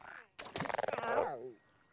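A single loud, throaty croak from a large frog or toad in a video game (The Unfinished Swan), with a rattling, pulsing quality, sounds up close, fading off after about a second.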